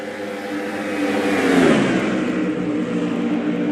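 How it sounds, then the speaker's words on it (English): Race cars accelerating around the Homestead-Miami track, a loud continuous engine roar that swells as cars pass close and then recedes into a steady high drone. "Here comes Carl, 3 wide for the lead at Homestead, Miami."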